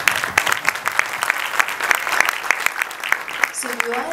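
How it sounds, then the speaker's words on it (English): Audience at a music launch event for the film Hrudayantar claps steadily for children called on stage, a dense burst of applause with sharp individual claps standing out and a brief voice near the end. "Please applaud them."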